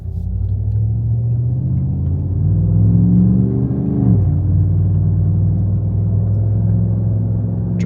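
A Chevrolet Silverado truck runs at a drag strip, its engine giving a loud, close rumble that climbs in pitch, drops sharply partway through, then holds a steady drone.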